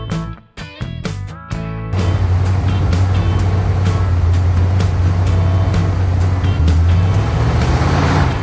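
A Plymouth SUV, running again after a full gallon of transmission fluid, idles with a loud, steady engine drone once it is moving, following a few sharp starting knocks and clatters.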